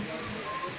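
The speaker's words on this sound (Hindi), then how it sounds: "रुक रुक कर जो है बारिश हो रही है।" Light, steady intermittent rain patters softly on a surface along the Tungnath trek route, a faint continuous hiss with no voices.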